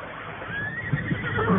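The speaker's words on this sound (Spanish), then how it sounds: "los caballos relinchaban" Horses neigh and whinny nervously in an outdoor adventure scene, a drawn-out high whinny rising over a steady background bed, with a couple of brief snorts or stamps toward the end.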